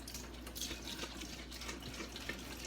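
Steady, fairly faint running water from a kitchen tap, sprouted quinoa being rinsed under it, a continuous even wash with no voices.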